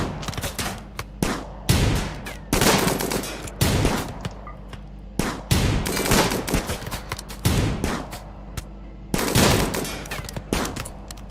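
Repeated bursts of gunfire from the video game Rimworld, loud volleys and rapid automatic fire in irregular clusters with brief gaps, a dense firefight with no talking.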